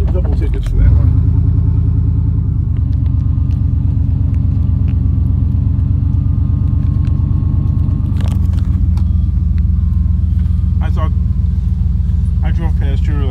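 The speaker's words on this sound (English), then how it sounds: "Back up, go through the stop sign in reverse." A car reverses past a stop sign early in the morning. A steady, close engine rumble holds throughout, with a brief shift near the start and a few light clicks and knocks over it.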